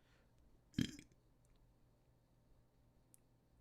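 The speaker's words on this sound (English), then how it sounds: "As a good luck burp." A single short burp sounds close to the mic in a quiet room, followed by near silence with faint small clicks.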